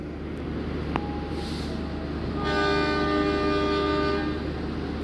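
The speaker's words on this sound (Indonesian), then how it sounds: "Kereta api lokal Bandung Raya diberangkatkan." A Bandung Raya local train departs a station, its horn sounding a sustained chord over low rumbling station noise, with a brief earlier tone.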